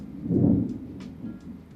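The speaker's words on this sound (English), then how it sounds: "That's thunder, and there's absolutely nothing I can do about it" Thunder rumbles low and deep during a storm, swelling loudly then fading into a softer, drawn-out roll, with faint rain-like crackle on top and no voices.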